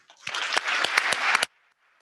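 An audience cheering and applauding for parents and teachers at a scholars event, a short dense burst of clapping and cheers with sharp claps that cuts off abruptly.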